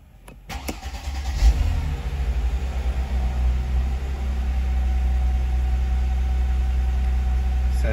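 A Mercedes CLK 320 engine cranks briefly and catches, then settles into a steady, slightly uneven idle, close and continuous with no talking.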